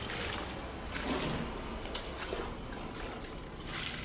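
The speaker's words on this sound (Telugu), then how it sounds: "ఇంకా అన్ని మొక్కలకి వాటర్ ఇచ్చేద్దాము." Water trickles steadily from a can or jug onto potted indoor plants, a soft continuous pour that stays close and fairly quiet with no talking.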